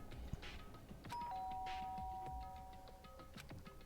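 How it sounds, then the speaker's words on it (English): A doorbell rings in the video game Danganronpa: Trigger Happy Havoc, a soft two-tone chime with sustained ringing tones over quiet ambient background, faint and alone. "Byakuya stood in front of her door, not making a sound, and pressed the doorbell."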